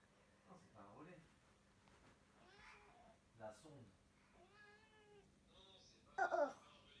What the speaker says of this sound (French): Il miaule.